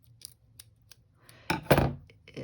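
Scissors snip through a notebook page in a few light, close strokes, ending in a louder cut and a short papery rustle in a quiet room.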